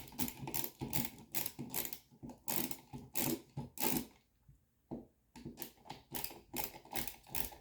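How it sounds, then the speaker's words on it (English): A ratchet screwdriver with a Phillips bit backing the screws out of an old electrical outlet, giving rapid rhythmic clicking bursts with a brief pause midway, close and clear, no voices. "I like using this ratchet screwdriver because I don't have to turn my hand in order to unscrew or screw, and it provides multiple bits."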